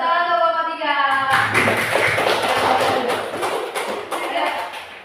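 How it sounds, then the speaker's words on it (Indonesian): Classroom of students clapping for a student group, uneven hand claps and taps that start after a voice and continue irregularly at close range. "Tepuk tangan untuk kelompok 3."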